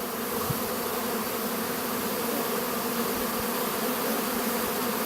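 A steady, dense buzzing of many honey bees swarming close by, constant and unbroken throughout with no voices.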